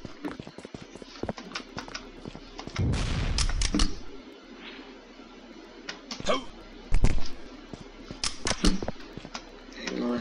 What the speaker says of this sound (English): Plasma gun.